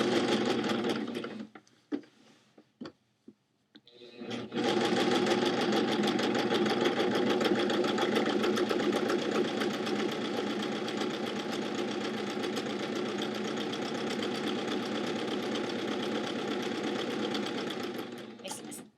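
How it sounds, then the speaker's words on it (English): A 4-thread overlock serger with a blade trims and stitches jeans fabric, a loud, steady, rapid mechanical whir held for about fourteen seconds after a few brief starts and stops. "It's cutting the fabric and sewing at the same time."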